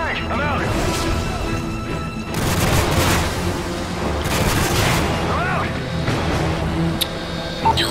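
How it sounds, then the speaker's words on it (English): A frag grenade blast and heavy gunfire from the video game Modern Warfare 3 boom and crackle continuously through a chaotic firefight, with players talking loudly over the din. "There's a frag, get out!"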